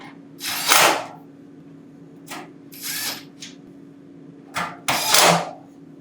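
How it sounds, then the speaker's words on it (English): Several short bursts of a power drill driving screws into a clothes dryer bracket, whirring, starting and stopping unevenly over a steady low hum, close by. "Then, reinstall the 4 screws to hold the bracket in place."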